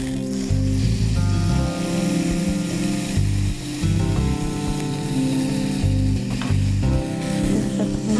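Tomatoes frying in a pan with eggs being added, a loud continuous sizzle with stirring scrapes, a steady hissing texture close up, no voices over it.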